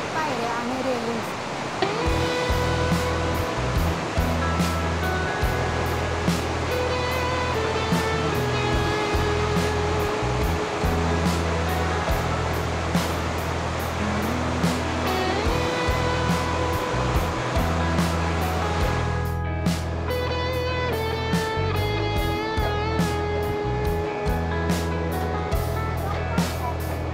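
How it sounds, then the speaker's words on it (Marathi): A waterfall in Austria, a steady full roar of rushing water that runs unbroken throughout, with music playing over it. "इथून वाहणारं पाणी आपल्या कानांवरती एक मधुर सूर तयार करतं"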